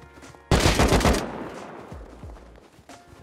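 A single loud, close gunshot in the survival video game Rust, a sharp blast that rings out and decays over about a second, followed by faint clatter.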